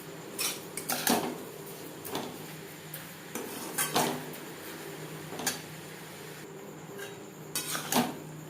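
Carrot halwa with sugar stirred in a pan, with soft, intermittent scrapes and light clinks of a spoon against metal, quiet and close, spaced irregularly.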